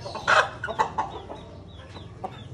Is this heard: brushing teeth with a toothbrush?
no